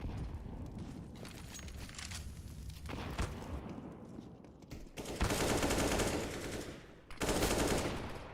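Gunfire in a Counter-Strike esports match: bursts of automatic fire, loudest in two sustained volleys in the second half, with scattered shots earlier over a game soundscape.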